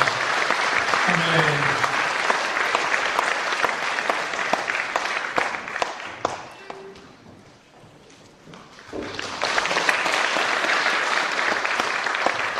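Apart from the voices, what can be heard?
audience applause for retiring church elder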